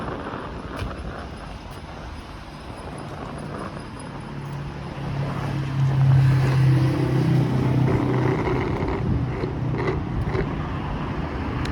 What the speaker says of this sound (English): Well, there's a motorcycle.